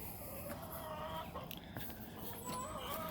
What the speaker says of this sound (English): these chickens are so weird